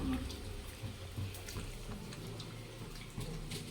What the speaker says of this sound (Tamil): இதை கரைச்சி இதில் ஊற்றிடுறது